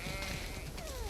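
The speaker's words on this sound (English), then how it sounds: "We definitely have way too many sheep." A single sheep bleats in The Last of Us Part II, a short, quiet wavering cry with a falling tone over steady farm ambience.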